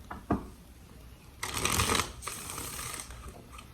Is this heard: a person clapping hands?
no